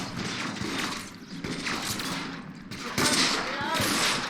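Gunfire in the video game L.A. Noire, a series of shots with sharp bursts, the loudest near the end, heard close over a busy game soundscape with talk mixed in.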